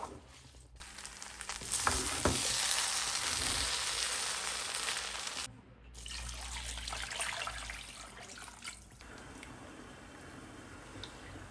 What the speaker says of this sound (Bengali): চাল আর ডাল একসাথে ভালো করে ভেজে নিব